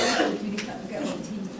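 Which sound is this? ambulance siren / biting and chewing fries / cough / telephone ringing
cough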